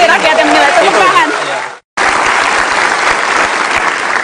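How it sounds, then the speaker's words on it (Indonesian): A studio audience at a televised political debate bursts into loud, sustained applause with some cheering. There is a brief cut to silence, then dense clapping resumes. "Tepuk tangan."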